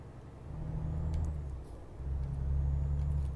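Heavy truck engine in Euro Truck Simulator 2 rumbling low and steady, rising and falling, with a faint hiss like air brakes as the truck brakes hard.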